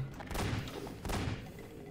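A shotgun fires twice in a video game, two muffled, low booming thuds under a second apart, fairly quiet and distant.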